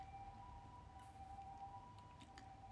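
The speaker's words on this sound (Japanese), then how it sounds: "ピーポーすごいなってる" A faint, distant emergency vehicle siren holding a steady high tone, heard briefly and softly beneath low background noise.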